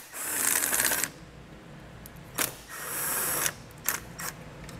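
A ratchet with a 10mm socket is worked on screws during a base plate installation on a 2019 Ford Fiesta, giving several rapid clicking bursts close up, separated by brief pauses.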